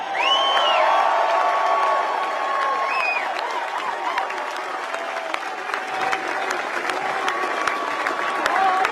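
A large outdoor political rally crowd in Williamsburg, Virginia applauds steadily with scattered whoops and cheers, a dense wash of clapping that holds for several seconds and swells slightly near the end.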